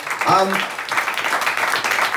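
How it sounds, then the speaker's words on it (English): A room full of people gives a round of applause, steady clapping that follows a short vocal sound and continues to the end. "Round of applause for Kimberly, guys"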